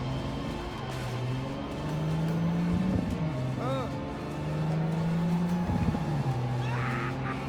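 A car driving in a video game, with an engine hum that rises and falls in pitch and a couple of brief clattering bumps, steady and moderately loud.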